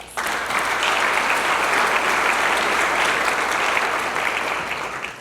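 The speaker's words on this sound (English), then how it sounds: "please give him a round of applause" Sustained round of applause from a crowd at a sports hall of fame awards night, loud and dense, starting abruptly and holding steady before easing slightly at the end.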